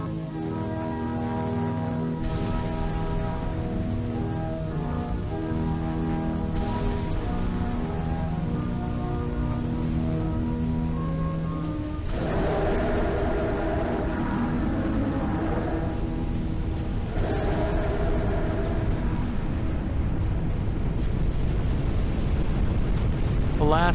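Nuclear missile explosions in Alaska surge as a loud, continuous rumbling roar with several heavy booming swells across the stretch, set within a dense, dramatic sound bed.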